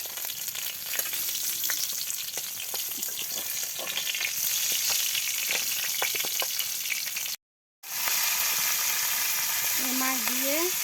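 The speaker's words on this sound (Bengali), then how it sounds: "মাছ দিয়ে ভর্তা করবো নি, তেমন ভেজে নিতেছি।" Fish frying in hot oil in a village kitchen, a loud, close, unbroken sizzle and crackle that cuts out for a moment and then resumes, with a faint whistle-like tone near the end.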